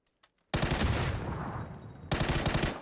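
Rapid automatic gunfire in the battle royale video game PUBG, two loud sustained bursts of shots separated by a brief dip, close and dense, with no talk over it.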